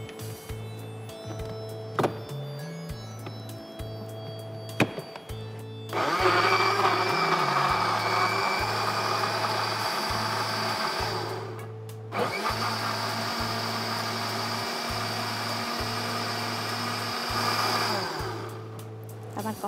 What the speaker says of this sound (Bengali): সো এখন আমরা ব্লেন্ড করে ফেলবো।